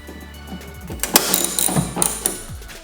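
A ratchet clicks rapidly in bursts while loosening the 11 mm trunk bolts on a BMW E90 during tail light work, close and fairly quiet, with no talking.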